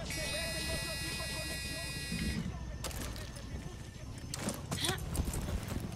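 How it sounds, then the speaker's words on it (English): Horse hooves clip-clop steadily during riding in the video game Far Cry 6, set over a game soundtrack with a sustained electronic tone that cuts out midway, followed by louder in-game noise. "Let's get back on our horse."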